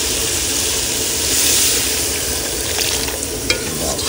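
Water hits potatoes and spices frying in a hot pan, raising a loud, continuous sizzle with faint stirring scrapes and a small clatter near the end.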